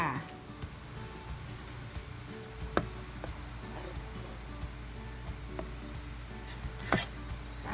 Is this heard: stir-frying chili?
yes